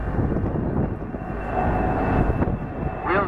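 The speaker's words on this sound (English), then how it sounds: "a slow flight pass today from the A320 aircraft from Aer Lingus" An Aer Lingus A320 airliner makes a slow flight pass with wheels down and first-stage flap at Dublin FlightFest 2013, a steady rumbling jet roar, distant and continuous, under faint announcer talk.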